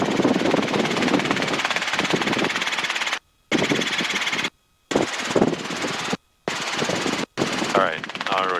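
A Robinson R22 helicopter in flight gives off a loud, close, continuous rotor-and-engine clatter from the cabin, broken by several abrupt silent gaps, with radio or intercom talk mixed in.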